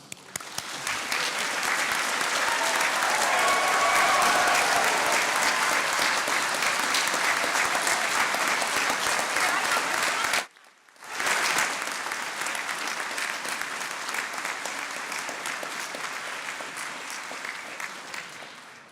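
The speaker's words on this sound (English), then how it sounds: "I'd like you to give yourselves a big cheer and out-cheer the science people who haven't cheered yet" Information Technology and Applied Science graduates at a conferring ceremony applaud and cheer as loudly as they can, a dense, loud roar of clapping that breaks off abruptly midway, then resumes and slowly fades.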